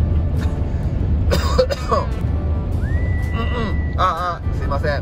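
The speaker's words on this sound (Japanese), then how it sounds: "ああすいません、咳込んでしまいましたが、" A fit of harsh coughs and throat-clearing bursts repeats several times close by, mixed with short vocal sounds.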